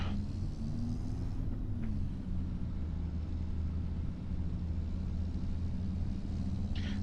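Kenworth T880 rollback tow truck driving in a video game, a steady low engine drone and road rumble heard from the cab, continuous and even with a faint shift partway through.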